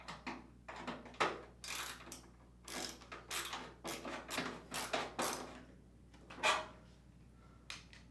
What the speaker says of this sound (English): reinstall the screw on the bottom of the front panel